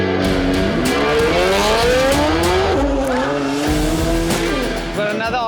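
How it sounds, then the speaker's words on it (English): A four-wheel-drive Nissan Skyline R34 revs hard and pulls away, its engine note climbing steadily through the gears, loud and close, with tire noise and crowd chatter mixed in. "for my all-time favorite, R34 right now, this is what we came here for. Four-wheel drive, this man is going to take off"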